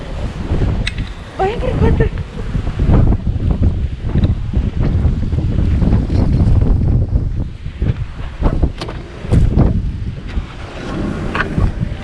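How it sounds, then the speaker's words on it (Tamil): Heavy wind blasts during a snowstorm outdoors, a loud, unbroken roar with rough microphone buffeting and brief sharp crackles, while a voice talks intermittently over it. "பயங்கர காற்று."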